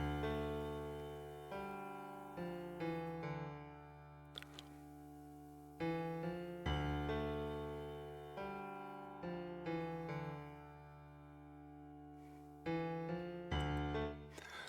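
A concert grand piano piece made in Magix Music Maker plays quietly, with chords and melody notes struck in phrases that ring and decay, recurring accented chords every few seconds over a steady low bass.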